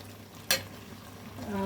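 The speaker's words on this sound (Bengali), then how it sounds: "এবার ভালো করে মিশিয়ে নিই। আর একটু তেল দিয়ে দিই।" Taro greens frying in oil in a pan, a quick stir producing one sharp scraping burst over a steady soft sizzle, close and brief.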